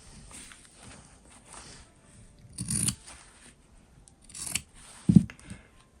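Scissors trim the fabric edge of a sewn water bottle bag, giving a few quiet, close snips spaced a second or two apart over faint rustling of cloth.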